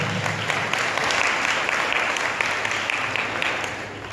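An audience at a Jain monk's religious discourse in Balaghat claps steadily, a dense, sustained wash of applause lasting several seconds and easing slightly toward the end.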